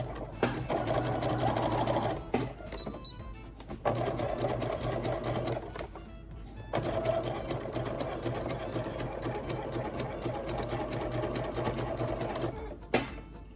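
A sewing machine stitches fold-over tape around the curved edge of a fabric face mask, giving a steady, close mechanical whir in several sustained runs separated by short stops.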